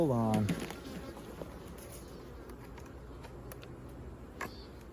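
Honey bees hum around an open, strong single-brood-chamber beehive being reassembled, a steady droning buzz close to the mic that follows a brief opening tone and continues quietly throughout.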